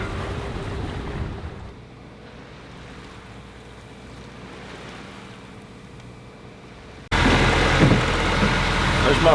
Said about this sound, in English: Beautiful sailing.